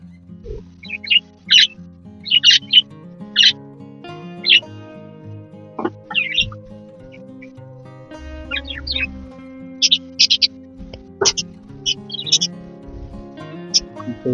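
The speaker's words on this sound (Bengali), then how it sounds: "এখানে কিন্তু পাখিগুলো খাওয়ার জন্য লাফালাফি করছে" Four pairs of pet birds, some with chicks, chirp and hop about while waiting for soft food. Bright tweets come in scattered bursts over a low hum, with a person talking in between.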